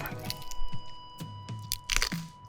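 Crisp, sharp crunches from biting and chewing a rolled-up Vietnamese pizza made on crunchy rice paper with chilies and onions, several distinct bites close to the mouth, with no talking.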